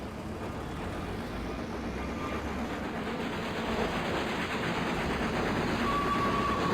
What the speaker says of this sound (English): I can hear the train coming as well